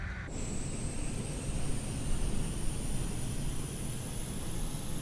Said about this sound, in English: Now the APU is a little jet engine that is in the tail of the aircraft, and you can hear it wind up.